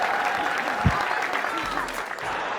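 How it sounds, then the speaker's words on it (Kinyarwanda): An audience breaks into brief, steady clapping for Brian and Natasha at a comedy show, a dense burst of hands that holds for a couple of seconds and then fades slightly. "amashyi cyane kuri Brian na Natasha mwakoze cyane"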